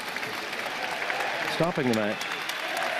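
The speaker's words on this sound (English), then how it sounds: "a round of applause for his sportsmanship" Spectators at a men's foil team final at a fencing world championship applaud steadily, a moderate, even patter of clapping heard beneath a commentator's voice.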